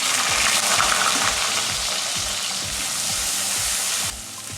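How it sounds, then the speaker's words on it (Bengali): Chopped onion hits hot oil already crackling with tempered whole spices for Bengali aloo dum, giving a dense, loud frying sizzle with rhythmic scraping stirs underneath that drops in level near the end. "এবার আমি পেঁয়াজ কুচিটা দিয়ে দেবো।"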